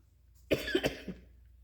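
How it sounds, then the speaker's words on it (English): A single harsh cough, short and close, breaking a near-silent background, followed by a softer throaty catch. "Oh, I hate that when I start trying to cough."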